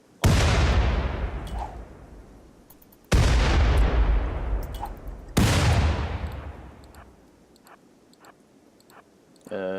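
Gunfire from rangers in a RimWorld battle: three loud, heavy booming shots, spaced a couple of seconds apart, each trailing off in a long rumbling decay, followed by quieter scattered clicks.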